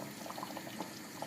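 Boiling water from a 200 ml glass is poured onto an eggplant ragout (mdarbel) in a pan, giving a steady bubbling, pouring hiss that stays even and close throughout.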